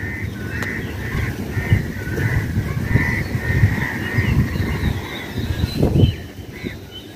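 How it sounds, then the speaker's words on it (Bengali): An Asian koel in spring gives repeated, evenly spaced calls at moderate distance, heard over a low background rumble and occasional rustling. "বসন্তের কোকিল ডাকছে, শোনো।"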